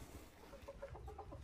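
Guinea fowl on a farm give a short run of soft, rhythmic clucking calls, faint and somewhat distant over quiet background.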